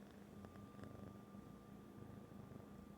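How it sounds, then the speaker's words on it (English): A pet cat named Trinket purring quietly and close, a low steady rumbling rhythm with a few faint clicks over a soft background hum, no talking. "Can you hear her purr?"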